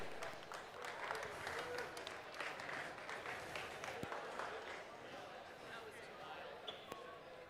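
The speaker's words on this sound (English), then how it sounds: "Let's get a big round of applause for all the great qualification matches that we saw today." Audience applause at a robotics competition, the Chicago Robotics Invitational, a sustained wash of clapping from a crowd in a large arena, with sharp bounce-like thuds and talk mixed in.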